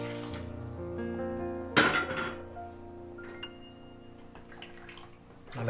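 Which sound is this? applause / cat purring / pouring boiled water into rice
pouring boiled water into rice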